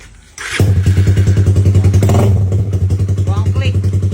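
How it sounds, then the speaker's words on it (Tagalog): A motorcycle engine sputters to life close by, then settles into a loud, steady, throbbing idle. Brief voices come through over the running engine. "Ito na yung bibili natin motor."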